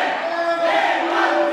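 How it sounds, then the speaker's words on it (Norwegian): A studio audience at a Norwegian game show roars and cheers in a dense, sustained wash of crowd noise, loud and continuous throughout. "Publikum stryker."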